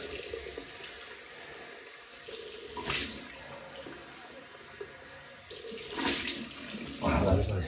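Cold water runs from a bathroom tap for rinsing a 1958 Gillette Super Speed Blue Tip razor, a steady faint splash with a few louder surges as the razor passes under the stream.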